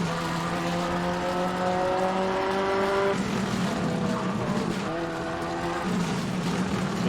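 A Subaru rally car races through a stage of the Border Counties Rally, its engine note climbing in loud, sustained revs, dropping briefly at a gearchange, then rising again close by.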